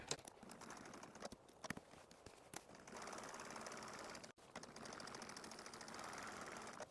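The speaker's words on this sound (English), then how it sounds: "I'm going to start off just sewing around the edge of the stitching of the vehicle." Sewing machine stitching around the edge of a vehicle appliqué on fabric, running in a steady, faint hum that briefly cuts out before resuming.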